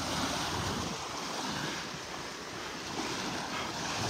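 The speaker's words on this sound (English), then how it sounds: "The water's churned up with these little waves" Steady wash of small ocean waves lapping on a beach in North Naples, Florida, mixed with wind rumbling across the microphone, constant and unbroken.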